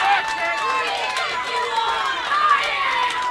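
A crowd of spectators at an intercollegiate college team bowling match chants and shouts together in a loud, steady cheer that fills the whole stretch with overlapping voices.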